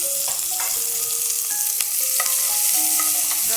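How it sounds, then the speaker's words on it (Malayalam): Chopped shallots sautéing in ghee in a pan for kalathappam, a bright steady sizzle close by with a few sharp stirring clicks from a utensil, no one speaking. "ആദ്യം ചുവന്നുള്ളി വഴറ്റാം."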